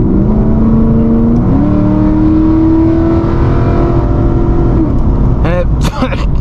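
A Pontiac G8 sedan accelerates hard in sport mode, its engine note climbing steadily and loudly with a downshift, then easing off as the revs drop near the end.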